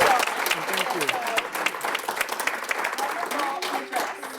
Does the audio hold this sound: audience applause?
yes